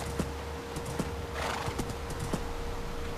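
Horse hooves clip-clop at a steady walking pace through a forest in Minecraft, soft and moderately close, with an occasional whinny and no talk.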